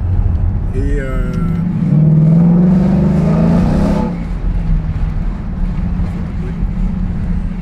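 Sports car engine rising in pitch as it revs hard, then drops off sharply at a gear change, loud and close under heavy wind rush.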